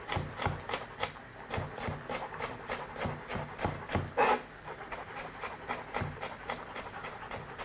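Knife finely chopping apple on a board for potato and egg salad, a fast steady run of close, crisp taps repeating evenly throughout, fairly quiet.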